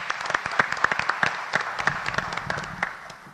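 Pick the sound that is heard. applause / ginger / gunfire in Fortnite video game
applause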